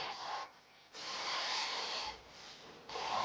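A hand plane shaving wooden boards for a chest, giving long broadband rasping strokes with short pauses between them, close and fairly loud with no voices.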